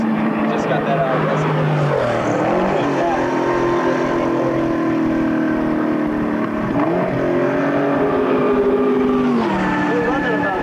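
Race cars lapping a circuit at a SAAC 17 Shelby event in Portland, Oregon, about 21 cars running, engines droning loud and continuous with pitch shifts as cars pass, under occasional talk.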